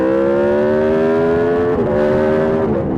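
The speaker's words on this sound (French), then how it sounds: "j'ai déjà essayé la RSV4, c'est une bécane de dingue, avec pour moi le son le plus incroyable qu'un véhicule puisse produire." An Aprilia RSV4 motorcycle engine holds a loud, steady high-revving drone that dips briefly twice, as if shifting gears, with no one talking.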